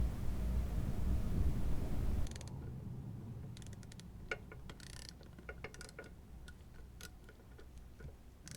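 A ratchet on a swivel extension clicks in quick, light bursts while loosening transmission pan bolts on a 2016 Mercedes GLC300 9G-Tronic, close and faint after a louder rumbling opening.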